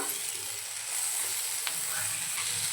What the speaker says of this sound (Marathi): आता आपण उभ्या चिरून घेतलेला टोमॅटो घालून घेऊया, परतवून घेऊया।